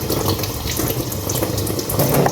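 Steady running tap water splashes over small red radishes being rinsed in a sink, a continuous close gush with no talking.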